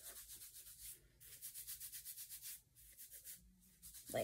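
Hair product is rubbed into the scalp with rhythmic, repeated rubbing strokes in short bursts, a close, soft scratchy friction sound alone without talk.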